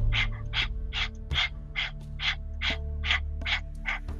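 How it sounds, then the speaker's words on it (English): Rapid open-mouth panting as a breathing exercise, like a dog, with about eleven evenly spaced breathy huffs over a steady low hum, close and fairly loud, with no talking. "just stick out your tongue just to practice and start panting like a dog like this"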